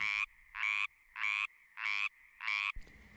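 A frog croaks in a sped-up, 2x-speed playback, five loud, evenly spaced buzzing calls linked by a thin continuous tone, ending in a short noisy thump.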